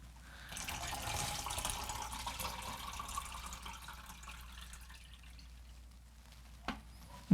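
Used photographic fixer being poured into a storage container, a steady soft liquid stream lasting several seconds, quiet and close, ending with a sharp clunk.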